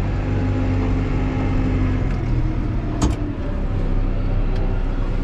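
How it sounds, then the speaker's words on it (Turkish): New Holland T5.140 tractor with Auto Command transmission driving along, a steady engine drone with a brief clunk midway and no talking. "Sadece gaz pedalına basarak da traktör hareket edebiliyor."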